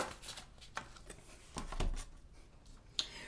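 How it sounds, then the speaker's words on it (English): Astrology cards being shuffled by hand, quiet riffling and soft flicks with a few sharper snaps, close and faint with no talking. "I'm going to go ahead and shuffle an astrology card for you guys"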